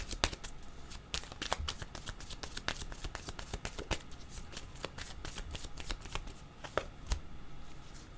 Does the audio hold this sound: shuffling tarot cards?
yes